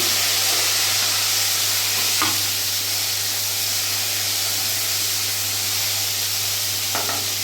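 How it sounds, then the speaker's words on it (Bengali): Okra fries in hot oil with a steady, loud sizzling hiss, broken by a couple of faint clatters. "ভেন্ডিগুলো ভেজে নেব"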